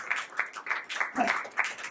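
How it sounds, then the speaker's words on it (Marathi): Sparse, rhythmic clapping from a crowd at a grand celebration for the Marathi TV serial 'Vin Doghantali Hi Tutena', with bursts of hands landing in a quick, even beat at moderate volume. "जोरदार टाळ्या झाल्या पाहिजेत या आपल्या लाडक्या जोडीसाठी."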